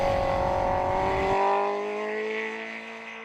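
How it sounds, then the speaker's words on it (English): A 2020 Honda CBR1000RR-R sportbike engine screams at high revs, a loud sustained howl with a sharp tonal shift as it changes load, then holding steady and easing slightly. "Low gears, high RPM, keeping the rev range, full Marquez."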